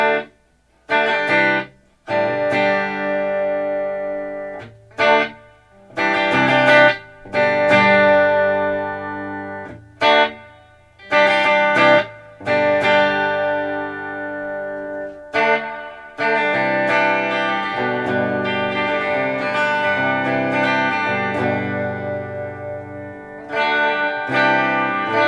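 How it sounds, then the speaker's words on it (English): A Roland Cube 60 guitar amp with reverb engaged rings out with chords and notes that trail off in lingering reverberant tails, separated by short silences and then a longer sustained passage, with no talking. "Reverb."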